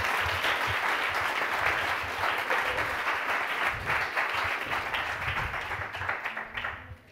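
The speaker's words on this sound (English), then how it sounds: "Let's give another round of applause." A crowd applauds after a talk, with dense, sustained clapping from many hands that holds steady for several seconds, then thins and fades out at the end.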